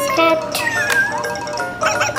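An electronic meow plays from a VTech Turn and Learn Cube baby toy, a short synthetic cat call with bright tonal sweeps, followed shortly by more toy sounds, fairly loud and close.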